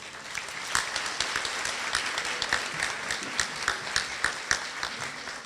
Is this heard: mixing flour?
no